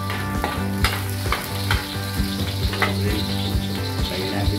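Moringa fruit sizzles steadily while frying in a pan, with a spatula scraping and stirring in regular strokes, close and fairly loud throughout.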